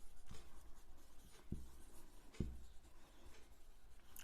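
Pen writing out a biology example, faint scratchy strokes with two small taps, quiet and close under a low room hum.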